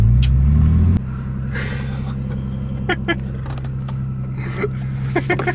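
Ford AU Falcon engine pulling hard in second gear, heard from inside the car as a rising roar that drops after about a second into a steady droning hum with light rattles.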